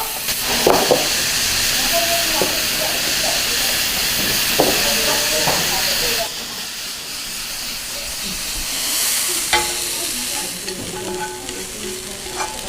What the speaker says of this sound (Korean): 소고기랑 아까 표고버섯이랑 양념해 놓은 거 있죠? 그거를 물기가 없을 때까지 볶아주세요.